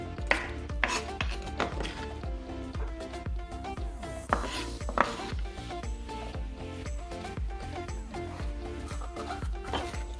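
A knife cuts through a pepper on a cutting board with quick, repeated chops and taps in an irregular rhythm, fairly close and moderately quiet, with no voices over the cutting.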